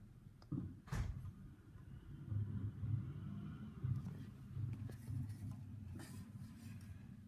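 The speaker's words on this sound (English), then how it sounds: "I have to say that's a pretty nice refuse truck" A new front-press loader refuse truck on a wheelie bin collection rumbles at a moderate distance, its low engine drone steady and broken by a few sharp knocks.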